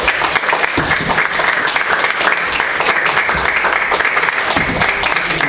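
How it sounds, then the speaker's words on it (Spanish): Audience applause at a presentation of a posthumous-work competition, loud, close and dense, with many hands clapping continuously throughout. "les voy a pedir un aplauso para recibir a Agustina Pérez y Sonia Budazzi."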